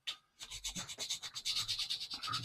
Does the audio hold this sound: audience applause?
no